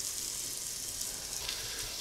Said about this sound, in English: Should be nice and hot, should hear a nice sizzle.